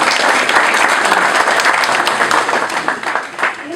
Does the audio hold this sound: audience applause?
yes